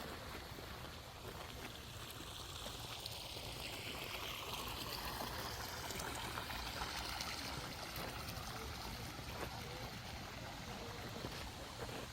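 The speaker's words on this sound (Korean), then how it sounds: "분수가 아주 시원하게" A fountain sprays at Gungnamji pond in Buyeo, giving a continuous rushing, splashing hiss of falling water that stays steady and fairly full for the whole stretch, with no voices.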